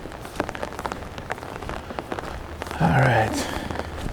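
Steady rain patters on surfaces in a city park along a river, with scattered close drips throughout and someone briefly speaking near the end.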